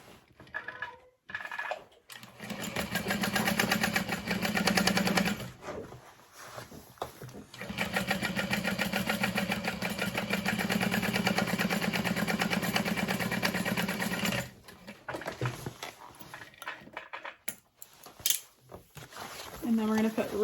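A sewing machine topstitches along the bottom panel of a fabric bag, running in two long steady bursts with short stops between, close and moderately loud, with occasional speech around it.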